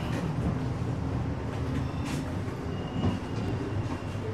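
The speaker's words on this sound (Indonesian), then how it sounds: "dibawa lari sama lokomotif Sprinter, kita datang awal terus ya." A locomotive-hauled passenger train on the Jakarta–Jogja–Solo line rumbles steadily along the tracks, a dense low roar with faint rattles and brief high squeals, no voices.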